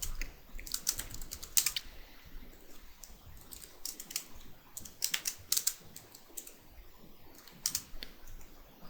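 Rapid keyboard typing of shorthand trading notes, close and fairly quiet, in quick irregular bursts of clicks with short pauses and no talk.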